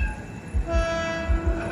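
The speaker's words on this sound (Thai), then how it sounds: "ขบวนรถเร็วที่172นะครับ" Rapid train no. 172 runs through Khlong Chan Di station in Thailand without stopping, its horn sounding over a loud rumble and rhythmic wheel thumps as the train passes close by.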